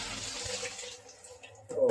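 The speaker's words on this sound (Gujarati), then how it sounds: "સંડાસનો નળ ચાલુ છે." An office toilet's water tap left running gives a steady close hiss of flowing water that thins out after about a second, before a brief louder sound at the end.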